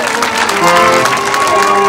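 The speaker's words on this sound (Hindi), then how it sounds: "एक बार जोरदार तालियां बजाएं आप सभी लोग।" Audience at a Rai lokgeet folk song performance applauding to welcome a small boy, a dense, loud wash of clapping with crowd noise and music tones running through it.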